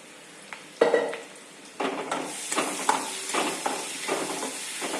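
Green chili paste roasting in oil in a pan, with faint sizzling under clinks and scrapes of a spoon stirring against the pan in irregular bursts.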